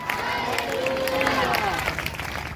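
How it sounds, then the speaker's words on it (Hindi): A church congregation claps loudly and continuously during a Sunday sermon in Hindi, a dense crowd roar of hands that stays steady throughout, with voices calling out beneath it. "आ गए तो जोरदार तालियां बजाएंगे प्रभु के लिए, जोर से जोर से जोर से जोर से।"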